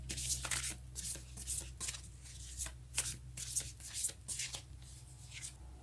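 A deck of Moonology oracle cards is shuffled by hand, giving repeated soft riffling bursts and flutters in an irregular rhythm, close and fairly quiet with a low steady hum beneath and no talking.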